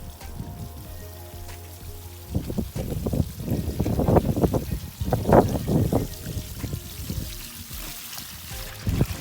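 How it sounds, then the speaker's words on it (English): Water gushes in uneven bursts from a garden hose onto a lawn where a wisteria stump is being washed, splashing and spattering close by after a quieter start, with some voices in the background. "So maybe Amelia, if you'll turn the water on for me."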